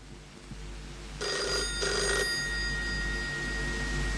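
An old-style telephone bell rings in two short bursts with a brief pause between, heard indoors over a low steady hum.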